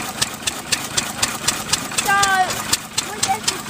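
An Anderson 2.5 horsepower dairy farmers' oil engine with spark plug and magneto runs at a steam fair, its steady rhythmic firing beats pulsing about four times a second, with a brief squeal and people talking in the background.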